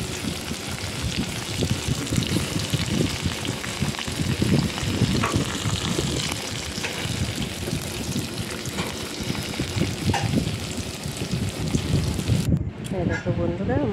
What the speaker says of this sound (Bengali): কিন্তু আমি লো ফ্লেমে ভাজবো, যাতে কচু মশলাগুলো না বেরোয়।